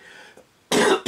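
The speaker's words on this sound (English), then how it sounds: "I have a cough" A person with a cough gives one faint throat sound, then two loud, close, harsh coughs in quick succession.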